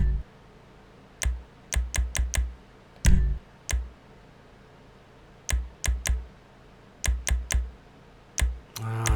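Clacking keys on a computer keyboard, typed in short clustered bursts of three to five quick strokes separated by pauses, close and distinct over a quiet background.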